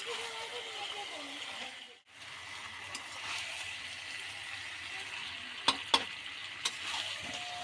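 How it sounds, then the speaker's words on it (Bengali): Meat and potatoes are stirred with spices in a frying pot for biryani, giving a steady sizzle with a scraping stir that drops out briefly, then clicks and taps from the utensil against the pot near the end. "ভালো করে ওই নাড়িয়ে নিয়ে যাওয়া হচ্ছে, মশলার সাথে মিশ্রণ হচ্ছে আর কি"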